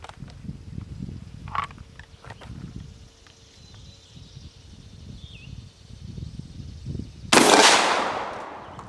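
A GForce GF12 pump shotgun fires a single loud, sharp blast near the end, its report ringing off briefly, after a stretch of quiet outdoor ambience with faint insect chirps.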